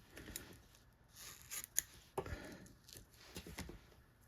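Scissors snipping muskrat hide fibers for fly tying, a few quiet close crisp cuts spaced over a few seconds against near silence.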